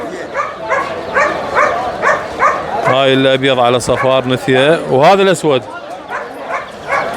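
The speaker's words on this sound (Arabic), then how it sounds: "هاي كلاب هاسكي" Husky dogs, a white female and a black male, yip and whimper in rising, wavering cries that peak mid-clip, with someone talking over and around them.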